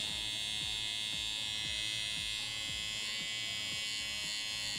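An electric hair trimmer lining up a beard, held close with its corner, a continuous high-pitched buzz with faint clicks and contact rasps underneath, no voices.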